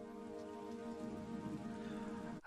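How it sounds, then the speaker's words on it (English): Rain falls in a steady, even hiss with a soft patter underneath, continuous and close, ending in a brief abrupt break. "Rain sounds."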